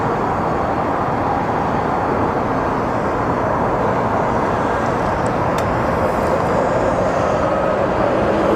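A Sun Country Airlines airliner passes at Phoenix Sky Harbor airport, its engines making a loud, steady, broadband roar that holds throughout.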